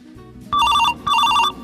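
A telephone ringtone sounds in two loud electronic bursts with a brief gap between them, heard alone without speech.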